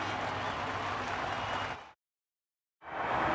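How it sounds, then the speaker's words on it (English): Sellout crowd applauding at the Japanese Grand Prix after a Ferrari victory, a dense, loud wash of clapping that cuts off briefly to silence and then resumes. "thoroughly earned the applause of the sellout crowd here today"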